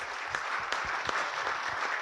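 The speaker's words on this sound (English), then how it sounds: "A round of applause to Dr. Ajay Ranka" An audience claps for a guest invited onto the stage at an executive round table event, a short burst of scattered, moderately loud claps from a room.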